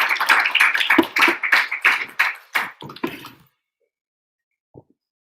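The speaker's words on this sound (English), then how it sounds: "let's give a huge round of applause to welcome." Scattered audience clapping to welcome a speaker at a Mother's Day class, a few close, uneven claps for about three seconds that stop abruptly, followed by near silence with one faint tap.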